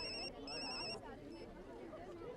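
A telephone rings in short repeated electronic bursts, two rings close together, followed by room noise and faint voices, in a tense TV crime drama scene.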